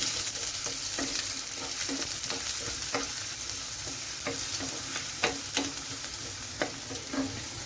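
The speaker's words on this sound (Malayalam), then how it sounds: "ഒരു ലേശം ഇഞ്ചിയാണ് ഒരു ടീസ്പൂണോളം വരും അതുപോലെ തന്നെ വെളുത്തുള്ളി ഒന്ന് ഇളക്കി കൊടുക്കാം" Ginger and garlic sauté in a pan with a steady, bright sizzle, punctuated by regular scraping clicks of a spoon stirring against the metal.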